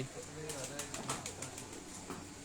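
Golden pigeons kept at a rooftop loft, cooing in low repeated calls, with steady background noise and faint voices nearby.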